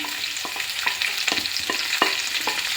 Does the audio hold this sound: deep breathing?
no